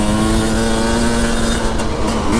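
An enduro motorcycle rides along off-road trails on the moors, its engine droning loud and close at a steady, high pitch with slight wavering in revs and no speech.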